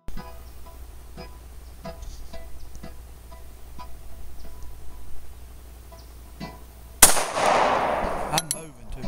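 A Smith & Wesson 9mm pistol fires outdoors: after quiet background with faint voices, one sharp, loud shot cracks and rings out, followed shortly by a second report.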